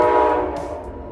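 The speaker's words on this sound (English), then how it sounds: "A horn soon sounds from around the curve and our train comes into view." An Amtrak train led by a Midnight Blue P42DC locomotive sounds its horn as it approaches around a curve, a loud sustained chord that dominates the short moment.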